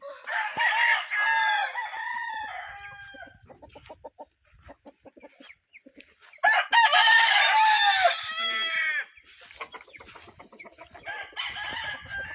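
Several roosters crow at a hillside gamefowl farm raising Roundhead and Sweater lines. Long loud cock-a-doodle-doo calls overlap in bursts, and quieter clucks and rustling fill the gaps between them.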